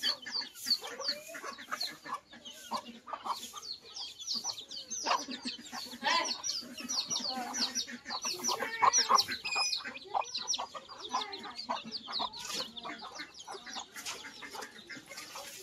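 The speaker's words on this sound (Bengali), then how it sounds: "এগুলো সব দেশি মুরগি," Native hens with their black and white chicks cluck and chirp busily close by while feeding, a dense, continuous farmyard chatter of short calls with faint background noise.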